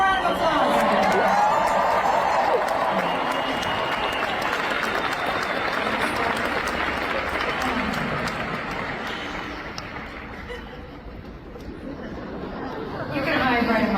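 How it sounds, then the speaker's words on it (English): Applause and crowd chatter at a team meeting with a family reunion panel, many hands clapping under busy talk and cheering voices, thinning out in the middle before swelling again near the end. "give her a round of applause"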